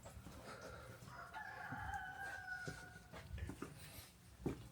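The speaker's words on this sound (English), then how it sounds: "You hear my rooster out there somewhere in the world freezing." A rooster crows at a distance during an ice storm in Atlanta, its drawn-out call rising over wind and outdoor noise, with a few scattered clucks around it.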